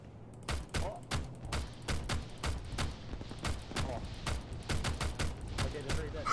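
Rapid bursts of rifle fire crack out in a steady rhythm during an ArmA 3 military simulation firefight, dozens of distinct shots at moderate distance with quiet radio chatter underneath.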